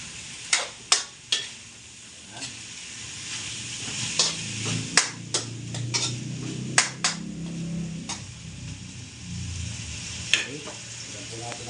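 String beans with corned beef are stirred in a pan, with sharp scrapes and knocks of the utensil against the pan over a low sizzle, spaced irregularly, while a voice speaks briefly in between.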